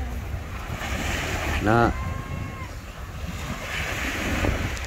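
Sea waves wash in under steady wind buffeting the microphone by the shore, with a brief burst of nearby voice partway through.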